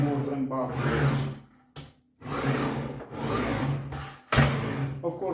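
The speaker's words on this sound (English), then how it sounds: "You can slide it and cut. And it goes very well forward and backwards." A Parkside PZKS 2000 B2 sliding compound mitre saw is pushed back and forth along its rails, a close rubbing rasp in several strokes with short pauses between them.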